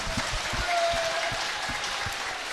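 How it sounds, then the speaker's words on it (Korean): Scattered clapping from reporters at a Seoul press conference, a sparse, faint patter of hands with a brief whistle-like tone in the background. "내가 기자님들에게 박수 한번 쳐드리겠습니다."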